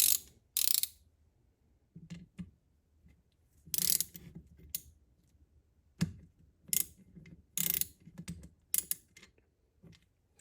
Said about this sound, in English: We're going to tighten this down.